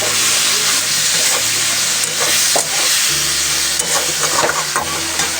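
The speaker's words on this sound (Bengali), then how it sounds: "এখানে রান্না হচ্ছে, টমেটোর চাটনি হচ্ছে এখানে" Tomato chutney cooks in a pan with a steady, close sizzle and hiss, joined by irregular scraping and stirring clatter, with no voices.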